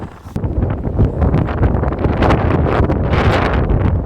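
Strong, gusty wind by the sea in Odesa during a storm roars and buffets the microphone continuously, a dense rumbling rush with no voices.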